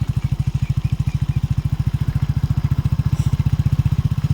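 A motorcycle engine runs steadily at close range, its rapid, even low thumping pulses continuing throughout as it rides along past open farm fields in a village.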